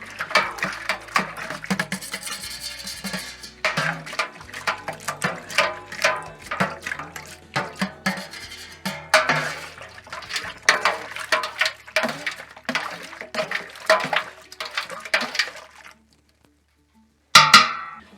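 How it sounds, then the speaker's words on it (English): Spoon stirring beer wort for an Irish stout inside a plastic fermenter, repeated sloshing and scraping swirls of liquid, close by, with clinks of the spoon before a pause and a final brief splash. "Get my spoon. Give it a bit of a stir as well."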